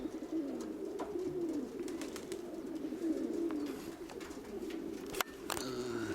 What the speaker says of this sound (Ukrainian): Думав, може голубок, ну так більш схилявся, виявилась голубка.